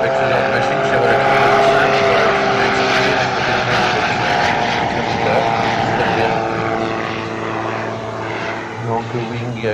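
A propeller-driven aerobatic plane at the 2003 Fête de l'air in Monceaux drones loudly and steadily as it banks into a low turn, its engine fading slightly toward the end, with a commentator talking over it throughout.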